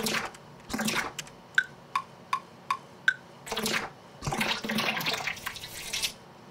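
Water sounds in an electronic music track include a run of five evenly spaced, pitched drips with a ringing tone, framed by bursts of splashing, gushing water, close and clear with no voices.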